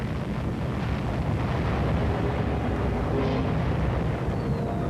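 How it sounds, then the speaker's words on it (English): An ammunition dump blowing up in 1951 Korean War combat footage, a dense, steady roar of thundering, crackling blasts that fills the whole stretch at high loudness with no pauses. "An ammunition dump goes up, thundering and crackling as it illuminates the sky with a spectacular display of fireworks."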